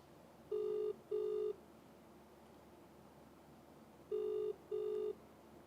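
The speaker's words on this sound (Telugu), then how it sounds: "ప్రవస్థికి ఫోన్ చేసి తెలుసుకునే ప్రయత్నం చేద్దాం మేడం." A telephone ringback tone sounds while a call is being placed: two pairs of steady electronic double rings, spaced a few seconds apart, clear over a faint hiss with no talking.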